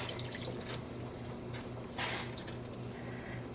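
Dye water pours and drips onto a Mega Charizard X sock blank, a soft continuous trickle with a brief louder splash partway through.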